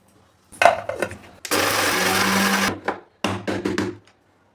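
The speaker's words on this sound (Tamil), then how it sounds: "இப்போ இதை மிக்ஸி ஜாரில் சேர்த்து நல்லா ஃபைன் பவுடராக அரைச்சி எடுத்துக்கலாம்." A kitchen mixer grinder pulverises dried beetroot into fine powder in loud, close bursts: several short pulses, one sustained whirring run of about a second, then another cluster of quick pulses before stopping.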